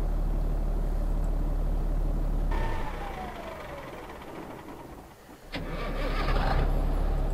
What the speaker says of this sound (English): that could be what a newer truck sounds like